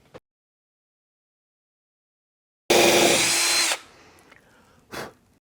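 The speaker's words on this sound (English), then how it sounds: "So I'm going to go ahead and drill my pilot holes" A power drill whirs in one loud burst of about a second after silence, drilling pilot holes, followed by faint handling clatter and a brief second noise.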